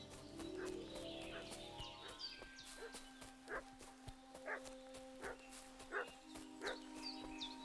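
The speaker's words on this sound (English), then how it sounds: "What's that dog making such a fuss about?" A dog barking in the medieval video game Kingdom Come: Deliverance 2, several sharp barks at irregular intervals over tonal game music, moderately near.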